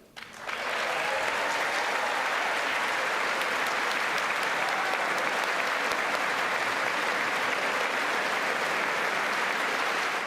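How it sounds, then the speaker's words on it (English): A large audience at the 2019 State of the Union address in the House chamber fills the room with applause that starts abruptly and holds steady and loud for about ten seconds. "Was the applause sarcastic or sincere?"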